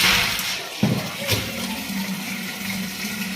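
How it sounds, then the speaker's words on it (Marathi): Water from a drinking-water tap pours into a metal pot while a borewell supply runs, making a steady close rushing hiss throughout with a few brief knocks and a voice faintly underneath. "ही पियाच्या पाण्याचा नळ आहे तर आता सध्या बोर चालू आहे ना पाण्याचा वरचा वर पाणी चालू आहे"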